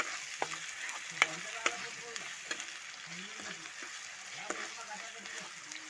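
Mushroom and tomato bhaji frying in a pan, a steady close sizzle with occasional sharp crackles and spatters, no voices over it.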